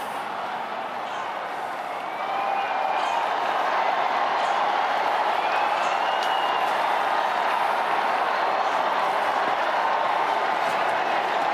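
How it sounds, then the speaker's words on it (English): Large crowd in a square in Rome cheering and murmuring as white smoke rises from the Sistine Chapel for a new pope's election; a steady, distant roar of many voices that swells slightly after a couple of seconds and stays sustained. "to the crowds, which you can hear"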